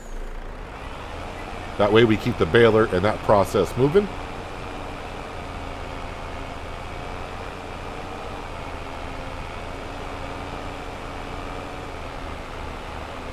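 A truck engine in the video game Farming Simulator 22 idles with a steady low hum that runs throughout, while a person talks briefly early on and then the engine continues alone.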